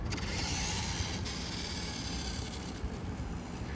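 The small electric motor of a WPL D42 Daihatsu Hijet toy RC truck whines steadily at high revs in high speed, a constant buzzing drone with some rushing noise and no voices.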